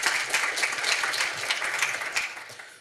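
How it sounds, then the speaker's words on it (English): A conference audience gives a speaker on a web rendering engine a soft, continuous round of applause, many hands clapping together at a moderate distance, with no voices over it. "So please clap for Manuel Rego."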